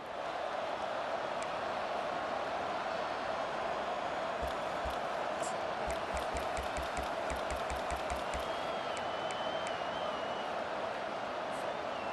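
A stadium crowd roars as a steady, distant wash of noise in the EA Sports College Football 25 video game, a Texas Longhorns home game, with a band of clapping and thumps in the middle and a whistle-like tone later.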